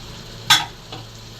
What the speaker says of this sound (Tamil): இதை நல்லா கிண்டிக்கிடுவோம்ப்பா.